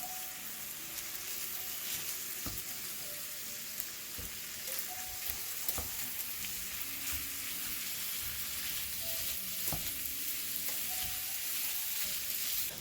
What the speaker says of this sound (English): I'm going to add in ground beef and cook it until the beef is browned.